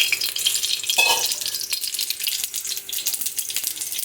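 Whole cumin seeds and bay leaves crackle in hot oil in a pan, a bright sputtering sizzle with a brief burst of louder frying near the start, close and steady, with no talk.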